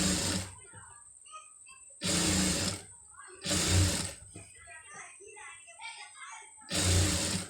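A sewing machine stitching piping onto cloth runs in four short loud bursts, each one or two seconds long, with someone talking in the pauses between them.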